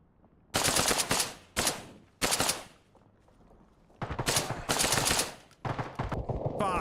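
Automatic gunfire in the Arma Reforger video game, several loud sustained bursts of rapid shots separated by brief quieter gaps, close and dominating, with no talk over it.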